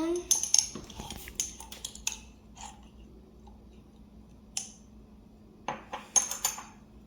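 Brown sugar, cinnamon and pecans are mixed in a bowl, a spoon clinking and scraping against the sides in short irregular bursts, close and fairly quiet.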